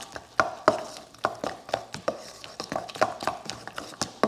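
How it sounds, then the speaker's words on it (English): Spoon working through no-knead bread dough in a bowl to mix in the yeast, giving a steady run of short scraping, tapping strokes close by, with no talk. "This one here, I'm going to stir that to bring the yeast in."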